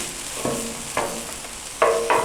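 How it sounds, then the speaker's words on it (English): Maple syrup bacon and onions sizzle on a griddle with a soft, steady hiss, and a few sharp scraping strokes of a spatula stand out over it. "So this is that bacon that's covered up in maple syrup. We've got onions over here."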